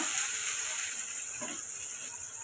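Steady hissing sizzle of onions frying in hot oil, continuous and fairly even, with faint stirring scrapes underneath.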